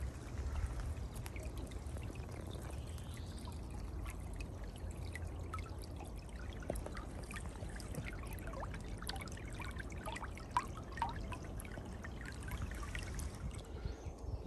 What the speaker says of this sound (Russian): Ручей лесной, полной воды.